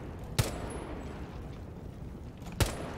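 Two sharp gunshots in Rainbow Six Siege, one early and one near the end, each a loud, short crack over a steady background of game ambience, with no talking.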